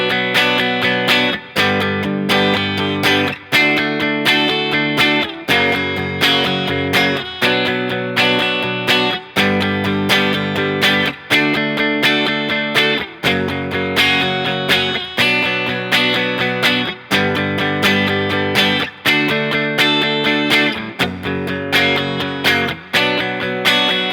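Electric guitar plays a chord progression and lead lick from a song, with steady rhythmic chord changes repeating in clear blocks, loud and alone with no voices.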